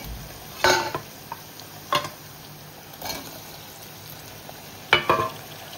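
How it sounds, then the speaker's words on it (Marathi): Tomatoes cooking over low flame with softened onions in a pan, a steady low sizzle broken by a few brief clatters and scrapes of a spoon stirring against the pan. "टोमॅटो पण लो फ्लेमवर शिजवून देऊया।"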